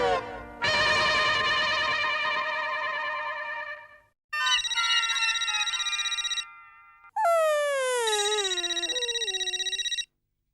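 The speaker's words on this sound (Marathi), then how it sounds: "अहो, तुमचा फोन वाजतोय, फोन उचला ना." A mobile phone rings indoors with a loud electronic melodic ringtone in three bursts separated by short gaps, the last burst with sliding tones, with no talk over it.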